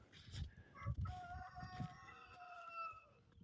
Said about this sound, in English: That rooster crows at 4 in the morning.